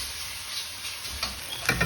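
Hokkien noodles and king prawns stir frying in a wok, a steady sizzling hiss with a few scraping stirs and clinks of the utensil toward the end.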